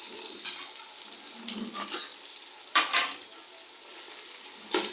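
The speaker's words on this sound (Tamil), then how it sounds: "இப்போ பச்சை மிளகாயும் நல்லா சேர்ந்து ஒரு 2 நிமிஷம் நல்லா வேகட்டுங்க." Onions and green chillies fry in a pan for chicken biryani, giving a soft, low sizzle with occasional stirring scrapes and brief louder bursts.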